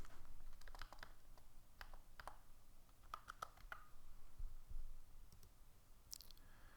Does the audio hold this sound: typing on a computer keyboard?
yes